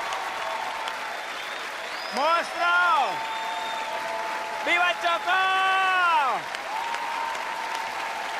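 Studio audience applause on a Colombian TV talk show, a steady wash of clapping under loud shouted cheers from a voice at two points.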